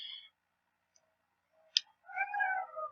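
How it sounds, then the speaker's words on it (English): A house cat gives a short chirp, then a drawn-out wavering meow about a second long, close and clear against near silence, with a small click just before it. "What is it, cat?"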